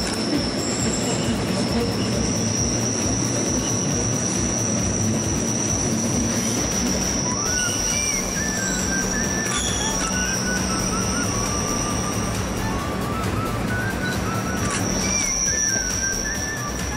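A Bernina Express train runs on its rails with a loud, continuous rumble, while the wheels squeal in high, sustained tones that rise and fall throughout.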